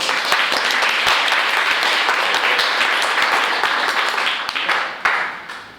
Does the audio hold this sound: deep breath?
no